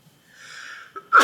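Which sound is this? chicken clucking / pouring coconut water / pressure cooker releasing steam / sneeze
sneeze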